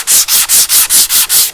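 Sandpaper rubbed by hand across the grain of a wooden board, seven brisk back-and-forth strokes in a steady rhythm, loud and close with a bright scratchy hiss and brief gaps between passes.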